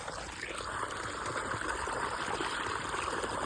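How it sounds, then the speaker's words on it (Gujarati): Irrigation water flowing along a field channel into a wheat field, a steady continuous rushing wash heard close up, alone with no talking. "અહીંયા આવે છે પાણી"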